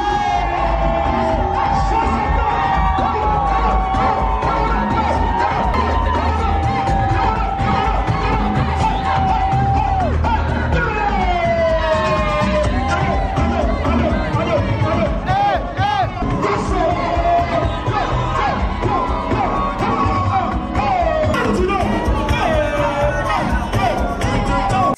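A crowd at a lavish wedding party cheers, whoops and shouts over loud, continuous music, with hosts urging guests to stand and yell, filling the space with a dense, sustained roar.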